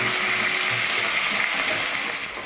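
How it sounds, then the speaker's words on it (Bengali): Pieces of a large fish head fry in a pan with a loud, even sizzle up close, fading a little at the end. "অনেক বড় একটা মাছের মাথা, এটাকে 4টে ভাগ করে আর কি ভাজা হচ্ছে"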